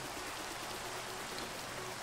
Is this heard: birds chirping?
no